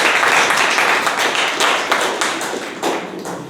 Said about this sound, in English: Let's clap for Ayush.